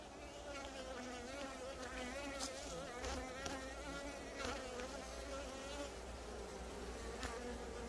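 A dense, steady buzz of many Buckfast honey bees close by in a hive, droning continuously with shifting tones and no pauses.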